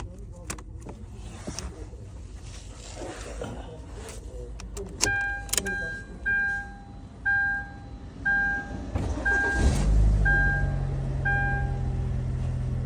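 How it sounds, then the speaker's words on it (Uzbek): A car engine cranks and catches after an immobilizer repair, preceded by a regular series of electronic warning beeps and jangling keys; the engine then settles into a steady close idle, with people talking. "Hozir xudo xolasa zavod qilib ko'ramiz."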